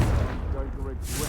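A Confringo fire spell blast in Hogwarts Legacy, a short muffled explosive boom amid combat noise, with a voice speaking over it.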